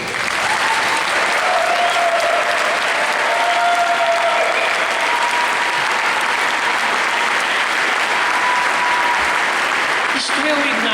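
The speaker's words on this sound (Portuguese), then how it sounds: "Uma salva de palmas para eles." An audience at an Ignite talk event bursts into sustained, loud applause that fills the room evenly for several seconds, a dense wash of clapping with a faint voice briefly audible beneath it.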